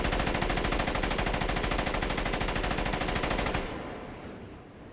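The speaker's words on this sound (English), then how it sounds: "unloads an entire clip of bullets into this man whom Michael once loved like a father. This gunshot is a scream." Rapid, loud, unbroken gunfire from a film scene in Road to Perdition, an entire clip emptied in a dense burst that stops abruptly and leaves a fading, softer wash.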